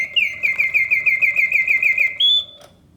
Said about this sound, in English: I did fully service the singing bird cage, so mechanically it's also in outstanding condition